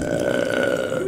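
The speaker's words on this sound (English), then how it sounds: "Did you hear the monster just burp?" A monster in the horror video game Amnesia lets out a loud, sustained, guttural burp that lasts just over a second, with a steady rumbling tone.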